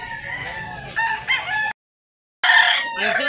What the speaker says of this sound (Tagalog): Gandang manok.